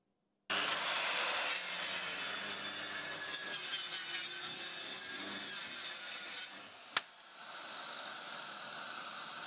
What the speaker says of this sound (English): we're going to make a couple of quick 18 mil rip cuts in some OSB